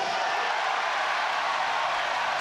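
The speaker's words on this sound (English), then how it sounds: "And the crowd loves that one, Andrew, don't they?" A basketball arena crowd roars in a steady, dense wash of cheering right after a foul call in an NBL game between the New Zealand Breakers and the Perth Wildcats, loud and sustained for the whole stretch.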